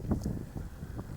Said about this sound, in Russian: извините, что ветер дует